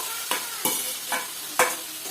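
Potatoes are stirred in a hot frying pan: four separate scraping strokes of a spoon against the pan over a soft background sizzle, close and fairly quiet, with no voices.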